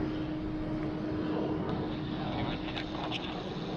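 Distant, steady jet rumble of a Malaysia Airlines airliner arriving at Sydney Airport, a continuous moderate wash of engine noise with a faint tonal hum and light intermittent sounds over it.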